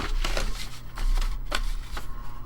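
Paper for a junk journal being cut and trimmed: a few quick, crisp slicing strokes close by, with soft rustles between them.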